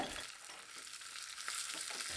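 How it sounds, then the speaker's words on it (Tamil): Steady crackling sizzle of spices, small onions and curry leaves frying in hot oil, a continuous bright hiss with small pops, close and fairly quiet. "இதெல்லாமே நல்லா பொரிஞ்சு வந்துருச்சுங்க"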